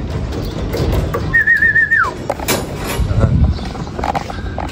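Racing pigeons arrive at a home loft after a 74 km race, with soft bird sounds and a short high whistle over outdoor background noise and faint mechanical clatter.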